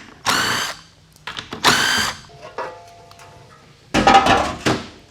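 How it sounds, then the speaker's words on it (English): A power tool spinning out the transmission pan bolts on a GM 4L60E/4L65E automatic transmission, in several loud whirring bursts of about half a second each with short pauses between, close up and with no talking. "So obviously we're going to remove the pan bolts."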